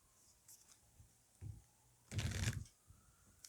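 Tarot cards being shuffled in a quiet room, with soft scattered riffles and taps and then one louder, longer burst of shuffling partway through, nearby with no talking.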